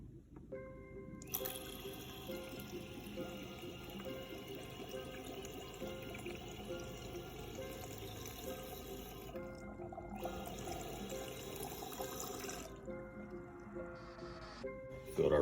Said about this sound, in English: Filled our radiator up with water.